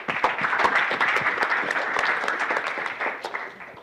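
An audience at a hackathon kickoff event applauds steadily for about four seconds, dense overlapping claps at moderate loudness with no talking over them.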